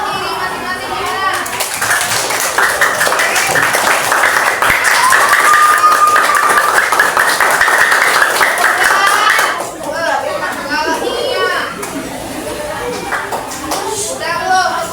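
Students clapping hands in a classroom, a lively stretch of many small hands beating together amid children's chatter and shouting, fading into voices toward the end.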